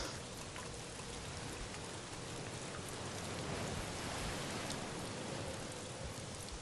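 Continuous rain hisses evenly and softly, a dense wash of drops with no pauses or voices.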